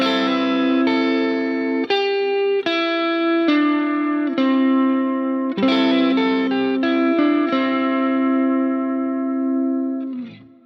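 Electric guitar through effects such as chorus and reverb plays slow neo soul chords with a hammer-on, each sustained chord ringing into the next, clear and close, fading at the end.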